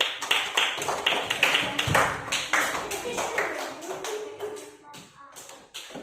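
Classroom of students clapping for a group, with dense broadband claps filling the first seconds and thinning out toward the end, plus some voices mixed in.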